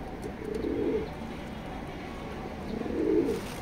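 Racing pigeons in a pigeon loft give two soft, low cooing calls, each rolling for about half a second, close by over a steady background murmur.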